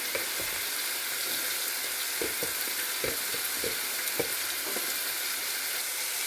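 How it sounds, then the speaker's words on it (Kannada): Tomato and cut carrot fry in hot oil for a Nepali chicken soup, a steady close sizzle with scattered stirring clinks and scrapes against the pan, no voices. "ಸ್ವಲ್ಪ ಹೊತ್ತು ಫ್ರೈ ಮಾಡಬೇಕು"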